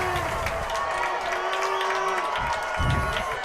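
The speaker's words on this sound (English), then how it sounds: "Comet crowd getting into it." Home crowd at a high school varsity football game between North Polk and Newton, a steady roar of cheering with scattered whoops, a brief swell near the end, beneath a busy outdoor stadium wash.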